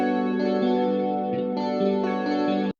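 An electric guitar played through the P-bend pitch effect on a Valeton GP200 multi-effects unit, giving sustained, processed chords that shift in pitch a few times before cutting off sharply, heard up close with no speech.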